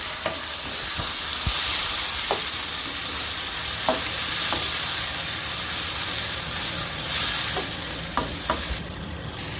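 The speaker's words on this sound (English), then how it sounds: "Now we will add carrots. We are going to stir it." Carrots frying in a pan as a spaghetti sauce is made, with a loud steady sizzle and hiss and several sharp clicks of a utensil stirring against the pan.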